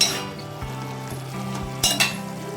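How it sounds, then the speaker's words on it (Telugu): Close kitchen sounds of a spoon scraping and stirring amaranth greens in a lidded pot, with a couple of brief metallic clinks over a steady sizzle. "ఒకసారి మూత ఓపెన్ చేసి కలుపుకోవాలండి"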